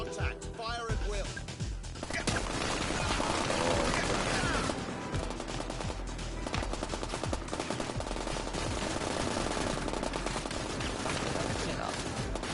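Sustained automatic gunfire in the thriller shooter Get Even, dense rapid bursts and overlapping shots running almost the whole time, loud and close over a busy combat mix.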